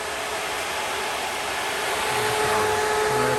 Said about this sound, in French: On a installé le ventilateur électrique qui sera sur thermostat. Je fais un test.